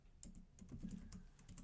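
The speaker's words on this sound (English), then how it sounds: "I apologize for the keyboard noise." Computer keyboard typing close to the microphone, a quick run of soft, clicky keystrokes at an uneven pace, faint and alone.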